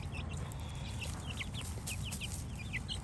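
Chickens and roosters cluck in a backyard flock, a steady scatter of short, fairly close calls and chirps repeating over a constant low background hum.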